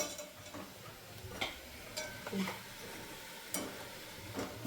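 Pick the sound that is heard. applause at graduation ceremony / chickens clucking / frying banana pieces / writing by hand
frying banana pieces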